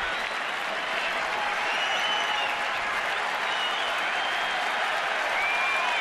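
A baseball crowd at the Washington Nationals home opener cheers and applauds on its feet, a steady roar of clapping and cheering that stays loud and continuous throughout.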